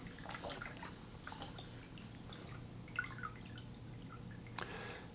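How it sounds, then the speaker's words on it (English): A casting sock being dipped into room temperature water, faint soft drips and small splashes scattered over quiet background hiss, with a slightly louder splash near the end. "We dip it into room temperature water."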